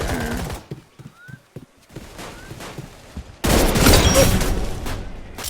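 Video game weapon fire, a one-tap headshot gun, cracks out in a few sharp, loud shots and then a dense, sustained burst of gunfire in the final two seconds. No voices are heard.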